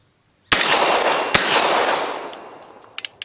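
Outdoors, a Dark Storm Industries Hailstorm 9mm pistol loaded with an SGM tactical stick magazine fires two sharp, loud shots close together. Each crack leaves a long echo that fades out, followed by a few faint metallic clicks.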